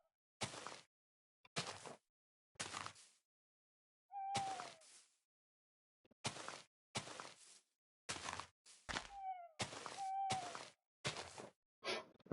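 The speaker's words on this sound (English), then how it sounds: "I'm still hearing those owls." Owls hoot in a Minecraft world, a few short soft hoots spaced apart among quiet, sporadic clicks and taps that come in separate bursts with near silence between them.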